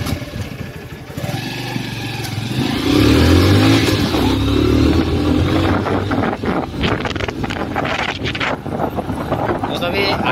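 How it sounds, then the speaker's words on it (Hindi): A motorcycle fresh from an air filter change and engine overhaul, previously unable to exceed 20 to 30 km/h, runs and revs on a road, its engine rising and falling under heavy wind buffeting while someone talks over it. "अब बाइक स्टार्ट कर लिया,"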